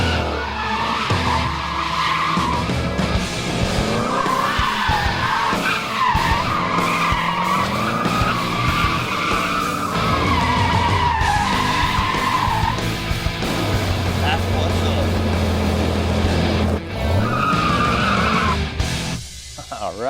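A Corvette driven hard with tires skidding and squealing for an extended stretch, loud engine revving and shifting pitch throughout, close and continuous.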